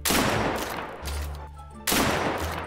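Rapid bursts of automatic gunfire in the Deadside survival shooter game, loud and close, two heavy volleys separated by a brief lull with a low rumble.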